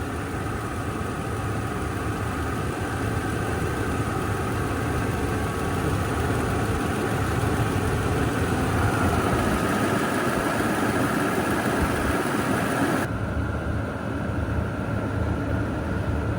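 A Toyota 2UZ-FE V8 idling in a Lexus Land Cruiser, giving a steady, even rumble with a constant mechanical hum that holds at the same level throughout.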